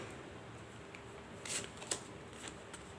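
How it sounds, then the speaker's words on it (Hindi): Tarot cards are shuffled and drawn quietly at close range: soft riffling and sliding card rustles, with a couple of brief flicks over a faint background hiss. "और मज़ीद कार्ड्स निकालूंगी मैं।"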